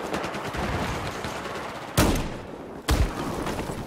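Gunfire in the video game Battlefield 4: a continuous, dense rattle of shots with two sudden louder bursts, heard without talk.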